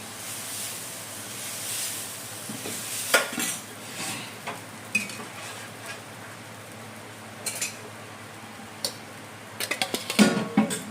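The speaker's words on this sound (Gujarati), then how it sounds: "ચાલો હવે આપણે ઢોસા પાડવાનું સ્ટાર્ટ કરી દઈએ." Dosa cooking on a griddle in a home kitchen: a soft background sizzle with intermittent metal spatula scrapes and clinks against the pan, growing busier toward the end.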